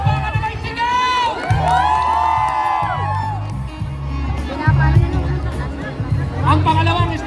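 Festival crowd at a Hong Kong Independence Day event cheering, whooping and clapping in a sustained loud roar, with voices rising in excited bursts over a continuous wash of applause.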